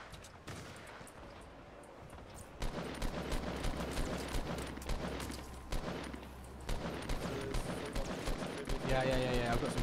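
Gunfire in the video game Fortnite, a steady stream of repeated shots over a low rumble, with faint game effects near the end.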